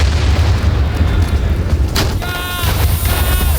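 A tank being shot repeatedly in a war video game, with continuous heavy booming rumble and a sharp blast near the middle followed by ringing metallic tones.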